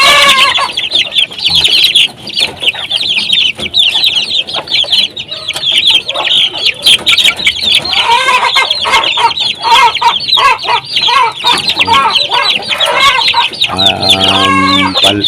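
Hens cluck steadily among a brood of peeping chicks at close range, the chatter dense and continuous throughout.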